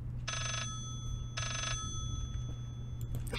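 Phone ringing in the horror game Layers of Fear: two long electronic trills, each lasting under half a second, separated by a pause over a steady low background hum.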